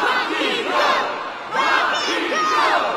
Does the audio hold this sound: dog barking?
no